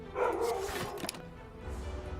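Dogs barking outside, heard as a few short, somewhat distant barks and yips over a low background, with no talking.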